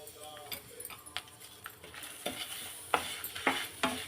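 Curry leaves and rock salt are stirred and fried in a pan for curry leaves rice, producing a soft sizzle broken by repeated scraping stirs and light utensil taps, rather quiet and close.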